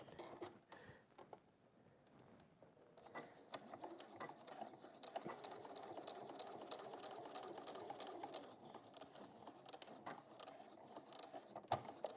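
A sewing machine stitches closed the turning gap of a fabric bag, a steady, close mechanical whir with rapid needle ticking that runs continuously and picks up slightly partway through, with no voices.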